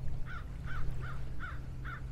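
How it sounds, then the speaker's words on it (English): Five evenly spaced harsh caws from crows in trees near a beach and docks, moderately distant, over a low steady background rumble. "The crows in the trees."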